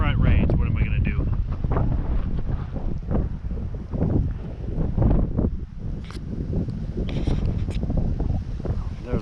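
Strong wind buffets the microphone on a mountain summit on the Front Range near Longs Peak, rumbling steadily and gusting up and down, while a person talks over it.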